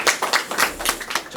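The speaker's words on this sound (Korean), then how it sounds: "박수 한번 주세요." An audience claps in a talk-show setting, a quick burst of several close, sharp hand claps, loud and uneven, with no voices over it.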